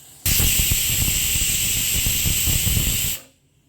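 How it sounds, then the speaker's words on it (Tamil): Steam blasts from a pressure cooker of baby corn gravy on its second whistle: a loud, continuous hiss that bursts in suddenly, runs unbroken for about three seconds nearby, then tapers quickly to quiet. "2 விசில் வந்துடுச்சு."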